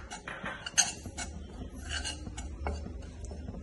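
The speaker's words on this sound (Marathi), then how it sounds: "बेसन परतून घेणार आहे" Besan (gram flour) being stirred and roasted in a pan makes quiet scraping and rasping strokes of a spoon against the metal, with irregular light clinks and rubs close by.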